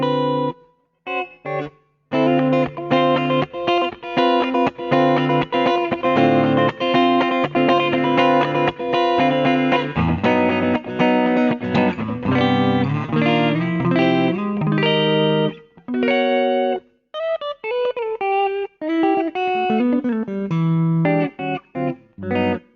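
A Hagstrom electric guitar with two single-coil pickups plays a clean tone, sounding chords and melodic single-note runs with brief pauses and a tuner-like gap near the start, played solo without talking.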